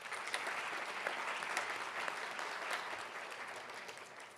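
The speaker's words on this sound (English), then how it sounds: "Could we please give them a round of applause?" An audience at an honorary lecture celebrating student leadership applauds warmly, a dense, even wash of many hands clapping that holds for several seconds at moderate distance, with no voices.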